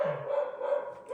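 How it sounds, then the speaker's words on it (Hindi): Several dogs bark in the background at a moderate distance, a steady chorus of yaps running throughout with no talk over them. "बैकग्राउंड में जो कुत्तों की आवाज आ रही है"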